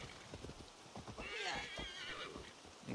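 A horse in the video game Assassin's Creed Valhalla whinnies loudly with a wavering high neigh, preceded and followed by clip-clopping hooves, with no talk over it.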